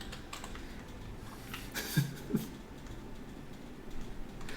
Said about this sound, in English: can you hear the clacking keys?